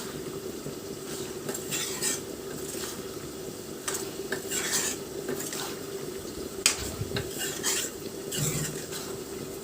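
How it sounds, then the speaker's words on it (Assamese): A utensil scrapes and stirs through a pot of sour Assamese fish curry, tenga, just after fragrant flowers have gone in, with steady clinks of metal against the pan and a soft bubbling underneath, close and moderately loud, with no talking. "ফুলখিনি দি কিনে লৰাই দিব"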